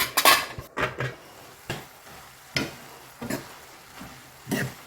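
Several sharp metallic clinks and clatters of a lid being set on a cooking pot of dal on a stove, close by and fairly loud, with quiet gaps between them.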